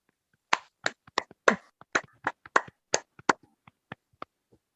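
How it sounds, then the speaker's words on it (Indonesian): A small group of students in an elementary school class clap together in a loose burst of about a dozen sharp, close claps that thin out and fade after a few seconds. "Beri tepuk tangan untuk kita sendiri"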